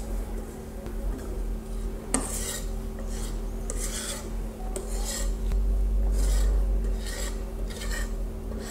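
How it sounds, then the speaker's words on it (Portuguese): Cake batter slides into a pan greased with oil and flour as a spatula scrapes the bowl and pan, producing repeated soft rasping strokes and faint clinks, close and steady, under a low hum with no talk. "Agora eu vou colocar essa massa aqui."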